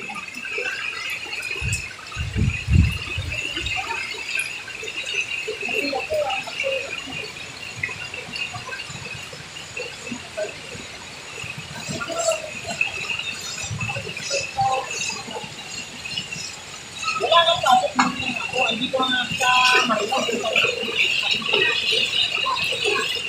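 Fast, powerful floodwater in a flooded Bocaue–Marilao area gives a continuous rushing wash with scattered gurgles and splashes. It holds steady throughout and swells louder near the end, with no talk over it.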